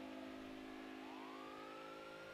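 A video game police siren wails steadily, its pitch sweeping upward partway through, with a constant engine-like drone underneath and no voices.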